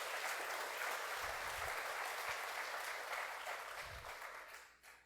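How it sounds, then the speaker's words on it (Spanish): Applause from a church congregation fills the room loudly and steadily, a dense wash of clapping that tapers off in the final second. "Dale un aplauso al Señor si me estás entendiendo"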